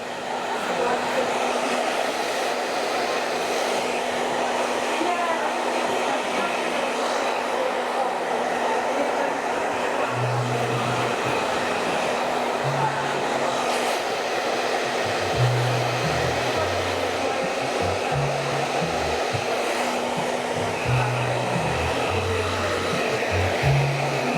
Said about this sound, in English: Dry it from left to right, back to front, dry it in loads of different ways